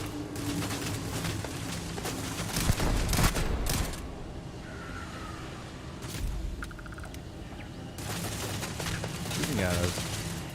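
Rapid bursts of gunfire in a Starfield firefight crackle in several volleys with pauses between them, while a voice talks over the shooting.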